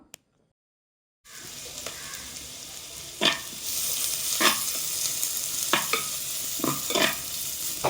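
Chopped medium onion dropped into a pan with ginger, curry leaves and garlic for a roasted-coconut potato curry, bursting into a steady loud sizzle after a brief silence, with a few sharper spatters and stirring scrapes over the hiss.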